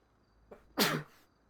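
A single loud, close sneeze with a short breathy lead-in, bursting out sharply and fading within a fraction of a second during a quiet online game session.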